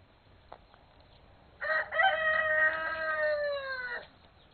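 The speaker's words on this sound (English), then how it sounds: "I hear the baby chicks crowing too." A chicken crows once on a small estate, a clear, fairly close, drawn-out call lasting about two seconds after a brief quiet stretch, with faint background noise.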